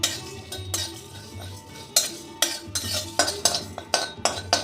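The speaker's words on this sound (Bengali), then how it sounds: "জিরে অল্প একটু ধনে লবঙ্গ দারচিনি এলাচ এটা অল্প ভেজে নেব সঙ্গে দিয়ে দিচ্ছি একটা শুকনো লঙ্কা" Cumin, coriander, cloves, cinnamon, cardamom and a dried chilli are dry-roasted in a pan for a pea ghugni spice mix, heard as soft rustling with a series of metal clinks and scrapes from a spatula, close by and without voices.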